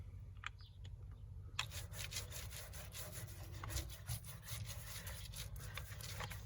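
A paint roller spreads roll-on bed liner across the bed of a 2012 Dodge Ram 1500. Faint at first, then a continuous rhythmic rasping and rubbing sets in and repeats in steady back-and-forth strokes, with no one talking.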